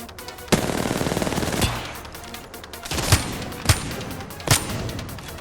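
Gunfire in the video game Apex Legends: a long rapid automatic burst followed by several sharp single shots and shorter bursts, loud and close.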